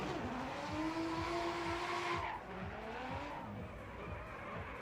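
Michael Essa's GSR Autosports BMW Z4 on Nitto tires drifts at a Formula Drift night round in Las Vegas, its engine howling at high revs while the tires squeal, then easing off, heard at a distance under faint commentary.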